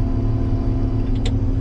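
A combine harvester runs with a steady, heavy engine drone and low rumble while the head is reversed to clear a plugged feeder house, with a brief faint squeal near the end.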